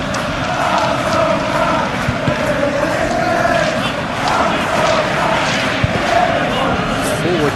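A stadium crowd at a Liverpool versus PSG Champions League football match groans and moans in a sustained, loud roar filling the stands, while a commentator talks over it.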